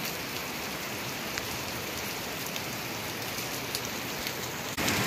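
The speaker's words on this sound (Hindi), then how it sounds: "पत्थर का अंदर से निकल रहा है पानी" Water gushing out from inside a rock beside a river, a loud, steady, broadband rush that continues unbroken throughout, close by with no voices.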